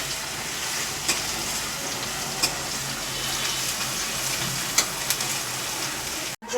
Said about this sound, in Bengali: এর পাশে আমি কিছুটা রসুনও ভেজে নিচ্ছি পেঁয়াজের সঙ্গে